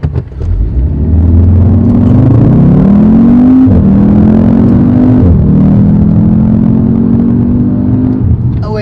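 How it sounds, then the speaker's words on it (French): A 310 hp Audi TTS launches from a standing start, its engine rising loud and close through climbing revs with two clear gear-shift dips, then holding a strong steady drone. "On vous fait un petit départ arrêté en live."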